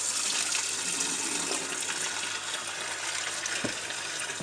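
Washer fluid drains out of the windshield washer reservoir of a 1998 Dodge Grand Caravan, a continuous nearby trickle and gush of liquid with a faint knock near the end.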